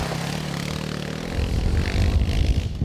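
Kawasaki KLX300R dirt bike engine running steadily on a road test, a continuous loud rumbling drone that swells and roughens partway through as the bike pulls harder.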